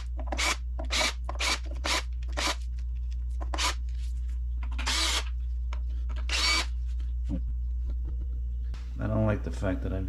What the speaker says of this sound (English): I suggest using a drill for the quickest